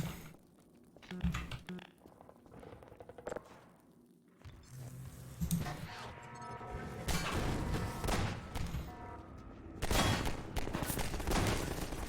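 Bursts of gunfire in a Fallout-style video game set around a collapsed garden area and Vault 125, with sharp shots and rapid volleys mixed with footsteps and thuds, loud and close, no talking.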